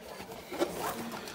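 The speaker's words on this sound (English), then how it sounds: "That's a zipper." Zipper on a Gator dual guitar gig bag for acoustic and electric guitars, a short rasping pull with one brief louder burst near the middle, close and fairly quiet, with no talking.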